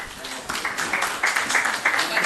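Audience at a medical education workshop claps for a group: a run of sharp, irregular claps of moderate loudness that builds through the passage, with voices underneath.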